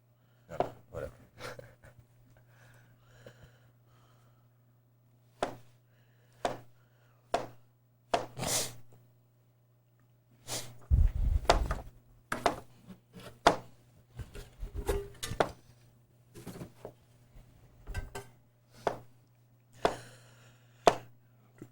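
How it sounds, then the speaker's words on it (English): A knife chops vegetables into julienne slices on a cutting board, sharp close thuds coming singly and in quick irregular bursts, separated by pauses over a faint steady hum. "Now that I've cut it all up in julienne slices"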